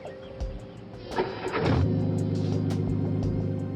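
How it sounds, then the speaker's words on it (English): A car engine cranks with a strained, rising whir after a few light clicks, then settles into a continuous low mechanical drone heard up close, with no talking. "Can't even get the car started."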